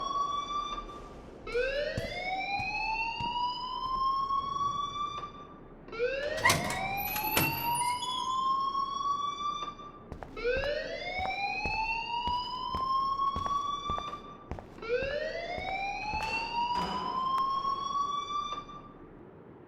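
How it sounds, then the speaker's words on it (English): A repeating alarm wails in the game Life Is Strange, four long rising sweeps separated by short gaps, loud and steady, with a sharp clatter in the second cycle and no talking. "please turn off that alarm since that's your job"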